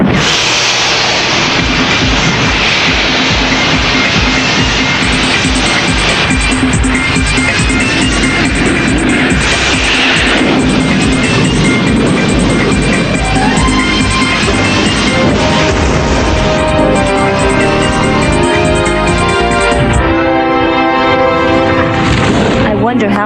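The Blue Earth spaceship's engines roar at takeoff in an anime sound effect, a loud continuous rumbling blast with booming low thunder and a rising whine layered over it, sustained for over twenty seconds.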